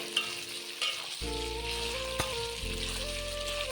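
Chicken pieces frying in a pan, a steady crackling sizzle that jumps louder as more meat goes in, with a low hum underneath and no talking.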